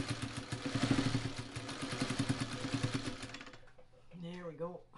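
A sewing machine stitches a quilt carrier with fast, steady mechanical clatter for several seconds, then stops, and a person talks quietly afterward.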